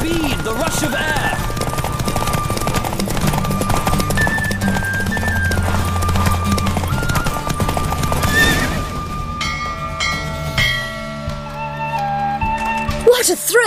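A horse gallops in a race in The Witcher 3, with steady hoofbeats and a whinny over loud game music and ambience, then the running fades as the race ends and a voice speaks.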